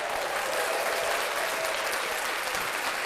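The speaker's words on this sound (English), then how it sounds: "let's clap that up" Steady applause from a podcast studio crowd, dense and continuous throughout without a break, fairly close and even in loudness.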